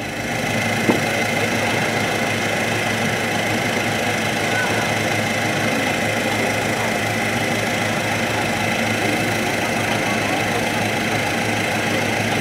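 Type 16 maneuver combat vehicle idles at a military anniversary display, a steady loud engine drone and vibration held evenly throughout, with a public-address voice speaking over it.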